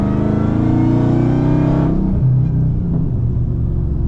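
Supercharger whine and engine rumble from a 1200HP Dodge Charger Hellcat with the King Kong package, a loud sustained tonal whine over a deep rumble that drops away and settles into a lower idle-like drone partway through.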